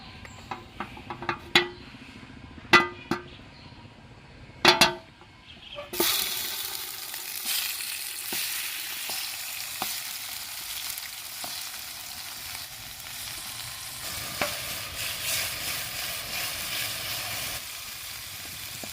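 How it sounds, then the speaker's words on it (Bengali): Sliced tomatoes roasting in a pan, opening with a few sharp clacks as pieces are set down, then a steady crackling sizzle with occasional pops and stirring, close and moderately loud, no speech. "এবার সেম ভাবেই আমরা টমেটোগুলোকে রোস্ট করে নেব।"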